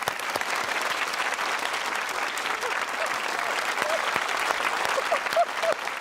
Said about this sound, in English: Let's have a huge round of applause for Jacinta.